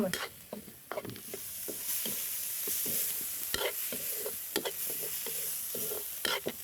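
Shallots stir-fried in a pan, close and loud, with a constant sizzle broken by irregular scraping and clacking strokes of a spatula against the metal.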